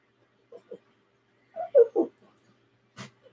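A small dog whimpers after being squeezed across the chest, giving a few brief, soft yips and whines, then a pause and a short snort or sniff near the end, close by and fairly quiet.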